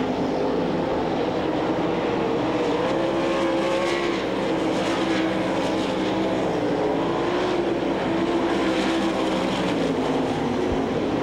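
World of Outlaws sprint cars racing at Knoxville Raceway, a dense, continuous roar of several engines snarling together around the dirt oval, loud and sustained without letup.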